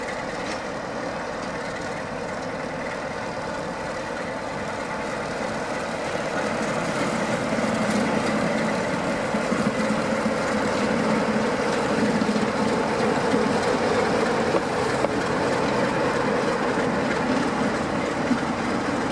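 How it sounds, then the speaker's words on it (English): The steam locomotive Sir Nigel Gresley rumbles steadily nearby as it reverses into a siding in Lincoln, a continuous heavy mechanical drone that swells slightly louder partway through, with no voices. "It's now reversing into the siding."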